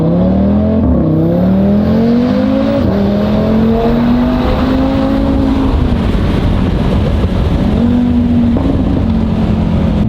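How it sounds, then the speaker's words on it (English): Loud Audi RS3 turbo engine with a 4-inch carbon intake revving and accelerating through several gear changes, pitch climbing then dropping repeatedly, with a turbo whine above the steady roar. "so you don't get as much turbo sounds in neutral, but under load"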